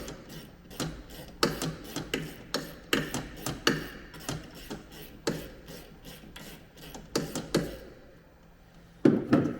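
An X-ray tube being unscrewed by hand from an X-ray generator housing gives a close run of repeated rasping, ratcheting grinds in quick irregular bursts, then a pause and one final sharp scrape.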